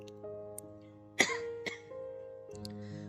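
Two sharp human coughs close together, a loud one followed by a softer one, standing out against a quiet background with a steady low hum.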